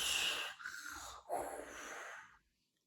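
A storyteller's voice imitates loud snoring, two long raspy inhale-exhale snores in a row, close and alone, ending in quiet.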